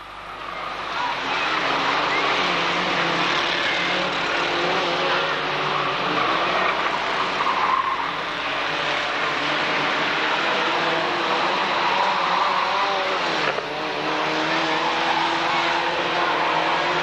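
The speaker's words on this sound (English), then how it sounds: "A long race, long race for the Formula 1000 cars." Formula 1000 race cars scream around a track in a long race, engines droning and whining steadily at a middle distance, with a public-address commentator speaking over them.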